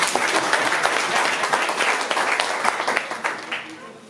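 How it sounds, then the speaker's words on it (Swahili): A crowd at a community election gathering claps in a dense, steady round of applause close by, gradually tapering off toward the end. "Toka pikira makofi"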